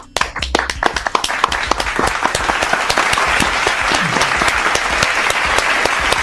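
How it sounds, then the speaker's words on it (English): Loud, close applause from a group cheering for a football coach, starting with a few sharp individual claps that quickly swell into dense, sustained clapping throughout. "can we clap it up for Dan Quinn for the Evans sighting?"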